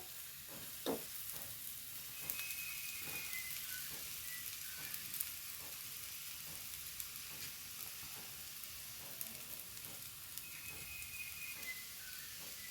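Grated coconut stir-fried in a pan with jackfruit seeds and prawns gives a steady soft sizzle, with occasional scrapes and clinks of a spoon stirring, close and even throughout.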